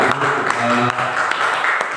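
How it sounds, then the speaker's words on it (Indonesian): Audience applause at a teacher-candidate dissemination gathering in Seruyan regency. The clapping is loud and brisk and mixes with voices speaking throughout. "Tepuk tangan untuk kita semua."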